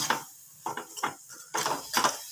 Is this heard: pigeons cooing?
no